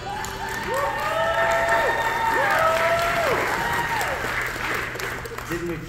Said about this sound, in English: Well, they still clap.